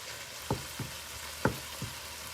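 Egg roll meat fries in a single pan with its grease, a steady close sizzle broken by a few soft scraping stirs.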